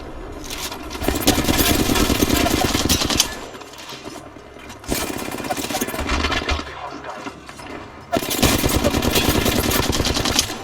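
Sustained bursts of automatic gunfire in the battle royale game Apex Legends, loud and close, coming in three long volleys separated by brief quieter stretches.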